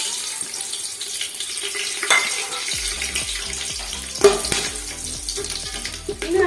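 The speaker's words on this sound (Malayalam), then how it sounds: "ഓയിൽ ഒഴിച്ച ശേഷം നമുക്കതിലേക്ക് ചെറുജീരകം, ഏലക്ക, ബേ ലീഫ്, പട്ട, ഗ്രാമ്പു, തക്കോല, ഇത്രയും നമുക്കിതിലേക്ക് ഇട്ട് കൊടുക്കാം" Whole spices including cumin, cardamom, bay leaf, cinnamon and cloves crackle and sizzle in hot oil for a green chicken biriyani, with bright frying hiss, a few sharp pops and stirring clatter close by.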